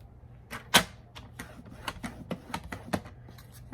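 Score lines pressed into paper for a sunflower gift bag: a quick series of sharp, close clicks and taps in an uneven rhythm, one louder snap near the start, over a quiet background.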